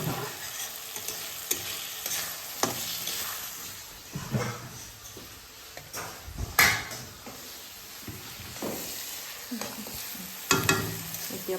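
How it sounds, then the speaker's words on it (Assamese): Peas fry in a pan with a soft continuous sizzle, punctuated by repeated scraping stirs and a few clanks of utensil against metal, close and with no talk. "ভাজি পেলাই মই ঢাকনি লগাই দিম।"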